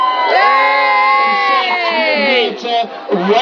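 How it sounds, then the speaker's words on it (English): Big outdoor crowd at a bonfire night fireworks display on Barry Island, cheering and whooping loudly and steadily for the firework team, with children's shouts mixed into the sustained roar. "How about give a big cheer for the firework team?"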